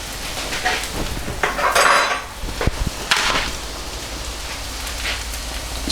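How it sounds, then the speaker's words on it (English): Bread sizzles and crackles steadily in hot fat in a frying pan for a full English breakfast, with a few louder spatters and a light clink of utensils against the pan. "We're then going to turn the fried bread over, fry it on the other side"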